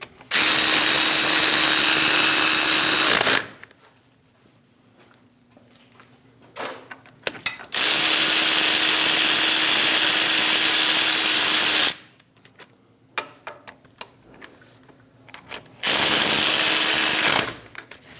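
Power tool, likely an impact driver, snugging down bolts on the front steering knuckle of a 2001-2006 Chevrolet Silverado 2500 HD, three loud sustained whirring bursts of several seconds each, separated by quiet gaps with small clinks.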